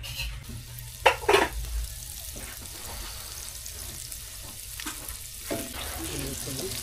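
Margarine heats and sizzles in a pan for a chicken-feet dish, a steady close crackle broken by a few louder stirring knocks and clatters.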